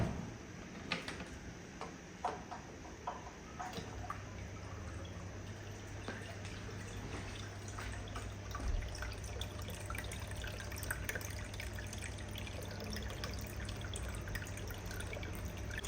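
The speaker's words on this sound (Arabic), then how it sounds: "هذا الشلال بيضوى جوا وبمطر مال مي" Small decorative fountain driven by a water pump, a faint steady trickle and splash with soft irregular drips under a low constant pump hum, close and quiet.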